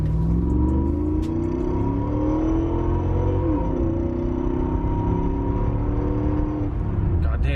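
A classic Mercedes accelerates hard from inside the cabin, a steady loud engine drone with rising harmonics building through a long pull toward seventy miles an hour.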